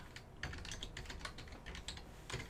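Quick, light clicking of keys on a computer keyboard as someone types into a web browser, a quiet, close run of irregular taps.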